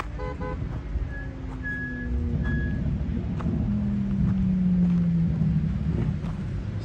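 A Mercedes CLK GTR supercar drives past with a loud engine note that rises and falls in pitch. Wind buffets the microphone, and a horn toots near the start.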